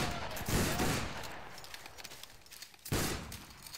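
A company of soldiers fires a musket volley in a Battle Grounds III line battle: a loud, crackling burst of many shots near the start, a rumbling tail, then a second sharp burst later, with no talking.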